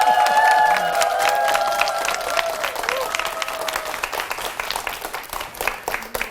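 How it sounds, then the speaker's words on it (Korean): Studio audience at a televised lecture applauding after a clarinet ensemble of performers with developmental disabilities, lingering clarinet notes fading into broad, sustained crowd clapping that gradually tapers off. "다시 한번 박수"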